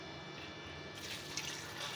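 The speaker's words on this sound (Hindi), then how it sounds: "इसमें आधा किलो पानी डाला है मैंने।" Half a kilo of water pours into a beef karahi pot with a soft, steady splashing wash that lasts about two seconds, fairly quiet and close, with a slight brighter splash near the end.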